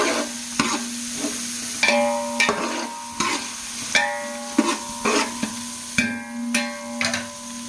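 Tomatoes cooking with ginger garlic paste in a pot for beef yakhni pulao, a soft sizzle broken by repeated sharp spoon scrapes and clanks against the pot in an uneven rhythm.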